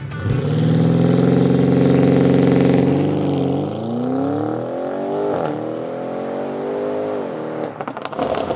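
An Audi RS6 engine roars close and loud, revving up and holding high before the pitch sinks and surges again, a throaty, sustained growl.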